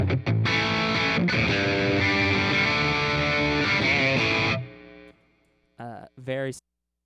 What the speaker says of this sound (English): and this is a distortion